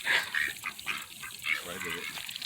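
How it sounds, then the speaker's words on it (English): Ducks and geese call in the rain, a cluster of nasal honks and quacks close by, with steady rain hiss beneath and people talking quietly nearby. "Oh, this could be a sound, duck sound."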